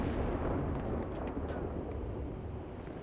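In a video game, a vehicle's ammunition cooks off after a hit, making a steady, dense rumble of distant explosions and crackling bursts that lasts throughout, with faint sharp pops on top.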